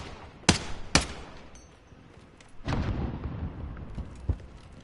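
Several sharp gunshots in a video game crack out in quick succession, followed by a rumbling burst and one more distant shot, with no voices.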